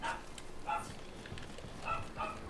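Dog barking in the video game Nioh: a few short, faint barks in separate bursts, a pair near the start and another pair near the end, set against quiet background ambience.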